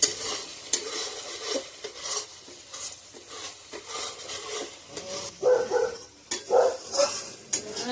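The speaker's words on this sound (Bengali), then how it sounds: "ভালো করে মশলাটা কষে নিই, তেল ছেড়ে দিলে জল দিয়ে দেবো।" Spice paste with chilli powder sizzling in oil in a pan for a Bengali fish curry, with repeated scraping stir strokes over a constant crackling fry and a few brief sharp squeaks near the end.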